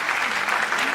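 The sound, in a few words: applause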